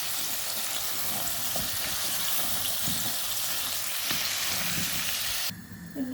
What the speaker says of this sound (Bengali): আর এদিকে মাছটা ফ্রাই করে নিলাম।